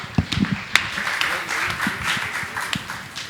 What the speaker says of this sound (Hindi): एक बार ताली का सम्मान चाहूंगा।